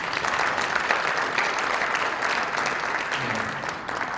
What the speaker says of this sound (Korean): 인사할 때 박수로 환영하겠습니다